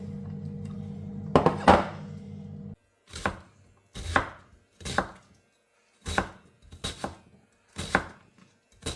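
Potatoes are chopped with a knife on a board in a series of about eight distinct thuds at a near-regular pace, close and clear, with a brief hum of background noise before the cutting starts.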